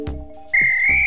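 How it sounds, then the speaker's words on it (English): A sharp, steady whistle blast from the video game Golf Story sounds loud and alone for about half a second, over low game music and a faint croaking tone. "What about this whistle?"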